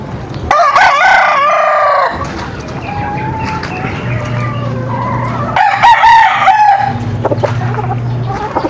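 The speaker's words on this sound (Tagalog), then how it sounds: "Ito yung broodcock natin na PSG galing kay Doms 512." A PSG broodcock rooster crows loudly and close by, giving two long calls separated by a pause, with softer clucking and faint background birds between them.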